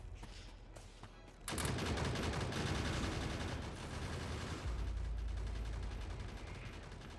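Automated gun turrets in the factory-building game Factorio fire in a sustained, rapid barrage against attacking biters, a loud continuous crackle of gunfire that starts abruptly after a quieter opening and keeps going to the end, with no talk.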